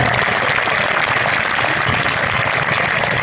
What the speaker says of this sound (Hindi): एक बार जोरदार तालियां बजा दो पूरा सदन